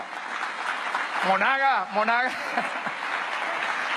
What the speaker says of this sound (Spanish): Un aplauso para los constituyentes de toda Venezuela.